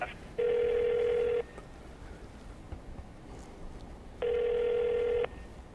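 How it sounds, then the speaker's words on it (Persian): A telephone line rings unanswered, giving two long, even ring tones a few seconds apart against faint background hiss, with no one speaking. "همینطور تلفنشون داره زنگ میزنه و اینها پاسخ نمیدن"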